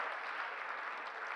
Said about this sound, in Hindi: एक बार तालियां बजाओ जरा जोरदार, तालियां थोड़ी बज रही हैं आपकी